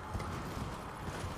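Steady clip-clop of horse hooves trotting in Elden Ring, a continuous rhythm over a dense, even background, with an occasional faint whinny-like edge.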